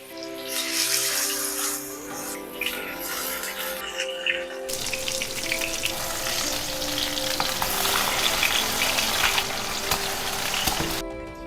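Chapli kebabs topped with tomato sizzle in hot oil in a pan, giving a continuous crackling fry that grows louder and fuller partway through, close and with no voices.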